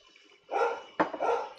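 A dog barks indoors, two short sharp barks about half a second apart, close and fairly loud with quiet before them.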